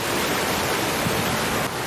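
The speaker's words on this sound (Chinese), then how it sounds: "加上滔滔不绝的水声，让人仿佛置身在瀑布当中" Steady, dense rushing water roars without a break from a large floor-reaching waterfall art installation at an interactive light museum in Gangneung, South Korea, loud and close with no talk.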